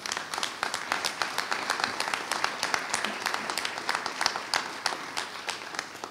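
Audience applause at the opening of an art exhibition, steady clapping from a seated crowd that holds for the whole stretch at moderate volume.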